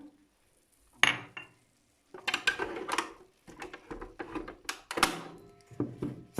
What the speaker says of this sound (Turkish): sıvıları karıştırıyorum